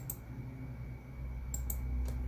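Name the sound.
computer keyboard key press and mouse clicks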